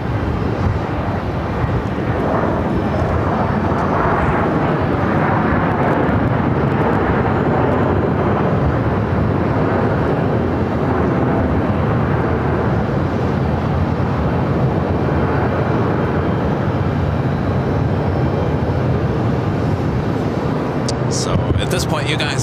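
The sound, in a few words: Southwest airliner landing on runway 26 at Phoenix airport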